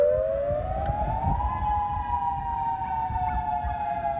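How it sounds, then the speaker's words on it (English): Hawaii civil defense nuclear attack warning siren during a test, a loud, steady wail that rises in pitch and then holds a long sustained tone over faint low rumble. "the US state of Hawaii has tested a siren warning of nuclear attack"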